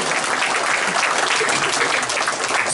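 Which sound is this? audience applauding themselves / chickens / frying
audience applauding themselves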